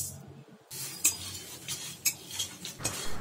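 A spoon scrapes and clinks against a dry wok while cumin, coriander and fennel seeds are stirred and roasted, with light, irregular metallic taps close by.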